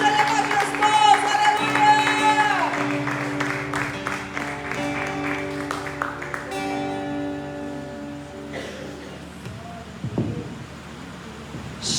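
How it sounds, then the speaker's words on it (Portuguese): A church congregation claps rhythmically along with worship music and a voice during a service, the clapping strongest in the first half and thinning out as the music fades. "Se você crê que Jesus vai voltar para te buscar, aplaude, glorifique o nome dele"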